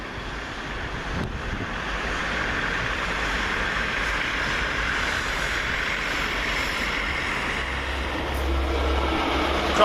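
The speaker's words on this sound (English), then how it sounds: "Next East Midlands Railway now is 158865, arriving with the 1524 service from Norwich to Liverpool Lime Street" East Midlands Railway class 158 diesel unit 158865 arriving at Peterborough station, a steady low rumble and rolling wheel noise that holds constant and close, with wind buffeting the microphone and no voices.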